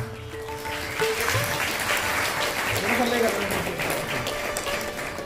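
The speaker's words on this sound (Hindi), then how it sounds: "सो बहुत सारिया तालियां के नाल" An audience claps steadily at a Children's Day event at a fine arts academy in Amritsar, the applause sustained and fairly close, with a voice and faint tones mixed in underneath.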